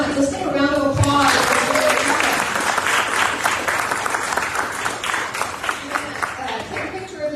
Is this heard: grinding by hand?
no